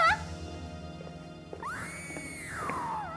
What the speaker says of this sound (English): what on earth was that dreadful scream?